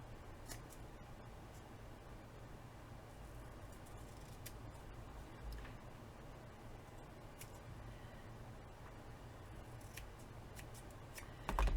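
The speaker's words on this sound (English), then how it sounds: "I'm going to cut this down because I think it'll be cute on the front" Scissors snip steadily through paper for a small scrapbook page, a run of quiet, close, crisp cuts with no talking.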